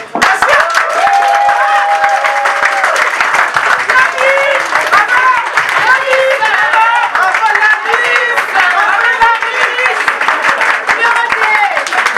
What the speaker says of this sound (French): c'est important que vous les applaudissiez et qu'elles voient que vous les soutenez